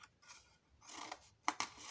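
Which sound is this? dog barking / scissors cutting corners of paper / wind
scissors cutting corners of paper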